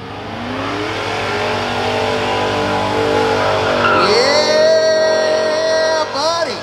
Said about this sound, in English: All right, the burnout is started.